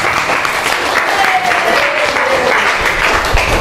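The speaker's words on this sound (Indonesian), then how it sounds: "Tepuk tangan untuk kalian semuanya." Dense applause from a school class in a classroom, steady and continuous clapping by many hands heard close, with faint voices underneath.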